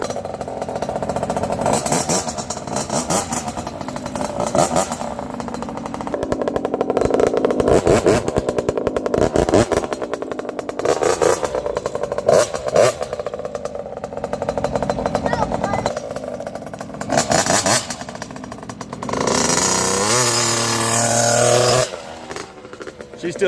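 A KTM SX motorcycle engine idles and revs while warming up, a loud, steady near engine note with bursts of throttle, and people talk over it.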